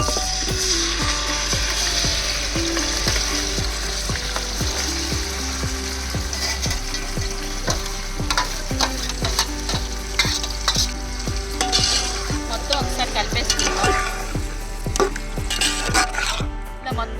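Chicken pieces tipped onto golden-brown fried onions for a green-chilli chicken pulao, frying loudly with steady scraping and stirring strokes of a spatula against the pan and a rhythmic ticking clatter throughout, no talking.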